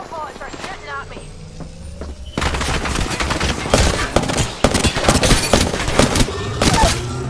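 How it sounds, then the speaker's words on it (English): Rapid bursts of enemy gunfire in a shooter video game, loud and dense fusillade-like volleys that start abruptly after a quieter stretch and keep going, with game sounds around them. "Foul bullets are shooting at me."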